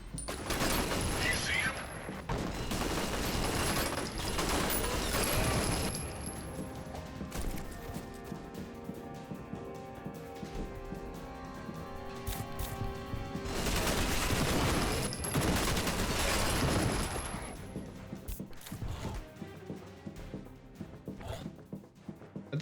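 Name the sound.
minigun fire in F.E.A.R. Perseus Mandate video game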